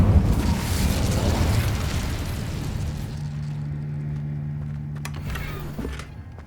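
The Incendio fire spell in Hogwarts Legacy bursts with a deep, booming whoosh, then settles into a low rumbling hum that fades out with a few faint crackles.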